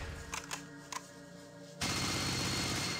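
Full-auto gunfire from the video game Fallout 1 bursts in abruptly partway through as a dense, loud, continuous rattle, following a few quieter clicks and taps.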